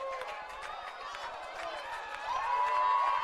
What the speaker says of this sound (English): the crowd's going nuts